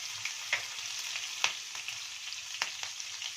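Chopped green chilies and whole cumin seeds sizzle in hot oil, a steady broadband hiss with a few sharp crackles and pops scattered throughout, moderately quiet and with no voices.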